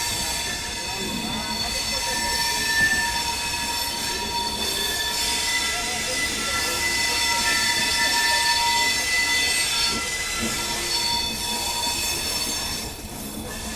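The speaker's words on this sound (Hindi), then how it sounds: "ट्रैक चेंज करने के लिए थोड़ी स्लो डाउन हुई थी ट्रेन अभी।" Rajasthan Sampark Kranti Express train rolling slowly through a track change on the Delhi to Jodhpur route, with steady close wheel rumble, high squealing tones and a faint rhythmic clatter throughout, heard from inside the coach.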